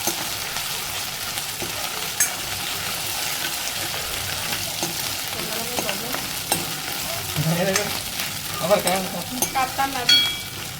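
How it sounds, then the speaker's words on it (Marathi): A ginger, garlic and green chili tempering for kadhi fries in a pan with a steady sizzle, while repeated scraping and stirring strokes grow busier toward the end. "हे मिश्रण नॉर्मल फ्राय होईपर्यंत आपण याला परतून घ्यायचं आहे"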